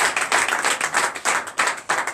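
Church congregation clapping in praise, a quick run of rhythmic hand claps in bursts at close range, fairly loud and continuous over about two seconds.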